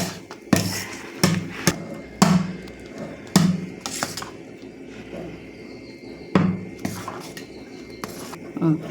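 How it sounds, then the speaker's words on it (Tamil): Thick fenugreek kali being stirred in a pot with a ladle, giving irregular scraping knocks and clinks against the pot, close and moderately loud, with no talking. "கொஞ்சம் நேரம் கைவிடாமல் கிளறுவோம்"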